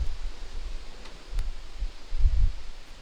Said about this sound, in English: It is a very windy day. I thought that I brave it, cook outside.